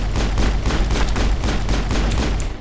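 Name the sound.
gunfire from the video game Mass Effect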